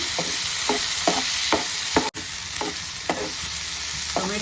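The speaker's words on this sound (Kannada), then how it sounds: "ಟೊಮೆಟೊ ಹಾಕಿ ಫ್ರೈ ಮಾಡಿ" Tomatoes frying in an onion tempering for a drumstick dish, a constant close sizzle with regular scraping stirs roughly every half second and a brief dropout midway.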